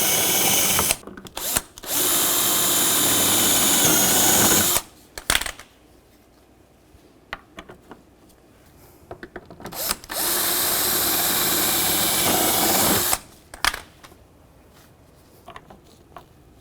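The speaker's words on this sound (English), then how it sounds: "then you can drill it this way as well." A power drill drills rivet holes in a license plate bracket on a 2011-2015 Chevrolet Cruze, two loud sustained whirring runs of about three seconds each, separated by quiet clicks and handling noise.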